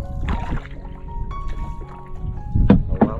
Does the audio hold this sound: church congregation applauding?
no